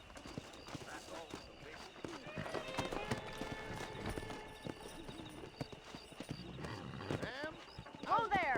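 Hooves clip-clop steadily as horses gallop in a Red Dead Redemption western game scene, mixed with ambient game sound and occasional voices talking, with a louder burst near the end.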